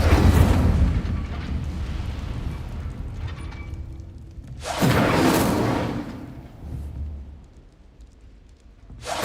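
An Incendio fire spell cast in Hogwarts Legacy, a loud roaring whoosh of flame bursting at the start and again midway, each trailing off into rumbling ambience.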